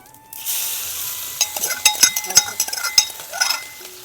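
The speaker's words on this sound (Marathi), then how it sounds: "थोडा फ्राय होऊ देऊ" Garlic, ginger, cumin and chili hit hot oil for a cowpea curry, starting with a burst of sizzling followed by a series of quick clinks and scrapes as a spoon stirs in the pan.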